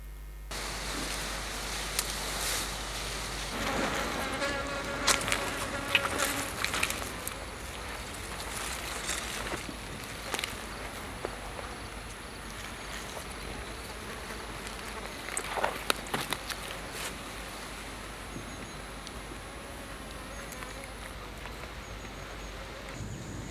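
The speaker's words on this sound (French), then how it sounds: "Peut-être que sur les mouches, on y va un peu fort, non?" Flies buzz on and off over a low steady hum, with scattered light knocks and rustles through the stretch.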